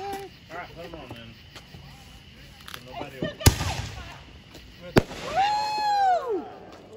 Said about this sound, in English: go back to the fireworks.